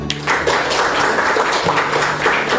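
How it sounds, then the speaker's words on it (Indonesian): A classroom audience gives a short burst of clapping for a group that has just finished its presentation, a dense patter of hands filling the room for a couple of seconds. "Beri tepuk tangan pada kelompok 1."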